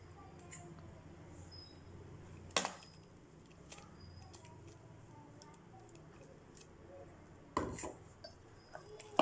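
Ground coconut going into a pot of Kerala-style erissery, quiet kitchen ambience broken by two sharp clanks of a utensil against the pot and a few faint clicks, no talk.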